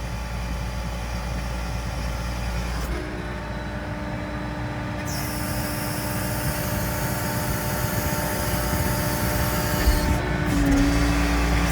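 A John Deere 317G or Kubota SVL75-3 compact track loader engine runs loud and steady, its throttle rising as the loader tilts back and lifts a concrete block, with a continuous heavy mechanical rumble throughout.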